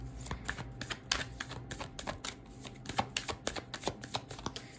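Tarot cards being shuffled and drawn for a pick-a-card reading, a steady run of crisp riffling flicks and soft slaps close to the mic, loud and continuous with no voices.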